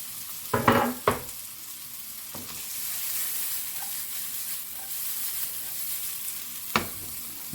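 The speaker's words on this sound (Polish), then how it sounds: "Teraz przesmażę cebulkę. Daję trochę oliwy." Chopped onion fries in olive oil in a pan, a steady close sizzle with a few loud clattering stirs near the start and one more near the end, no talk.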